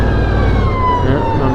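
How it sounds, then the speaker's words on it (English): A wailing emergency siren, likely an ambulance, passes near a motorcycle ride, its pitch sliding downward over a steady rumbling road and engine background. "Yeah, ambulance."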